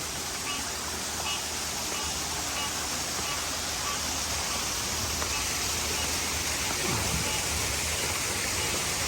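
An indoor waterfall in a restaurant cave at a wedding and events venue gives a steady, even hiss of splashing water that stays constant and fairly soft throughout.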